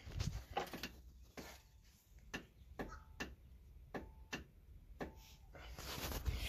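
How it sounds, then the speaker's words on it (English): The rear air suspension valve on a BMW 535xi E61 wagon clicks open and shut several times. The faint mechanical ticks are spaced irregularly over a low background hum. "And that's the valve opening and closing."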